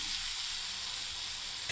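Fried lentil fritters go into spiced chickpea dal masala, producing a soft, steady sizzle that ends with a short scrape at the close.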